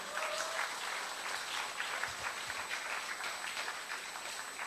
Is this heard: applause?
yes